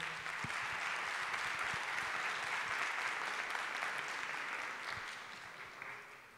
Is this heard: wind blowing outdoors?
no